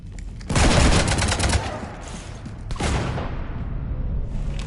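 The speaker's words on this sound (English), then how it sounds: "You want to stop shooting up my ship?" Dense gunfire strafes a ship in the Mass Effect 3 video game, a loud sustained burst of rapid shots followed by a second rattling volley, with no voices.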